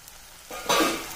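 Tomatoes frying in a pan for a kurma curry, a soft sizzle that swells into a louder hiss as the pan is stirred, then gradually eases off.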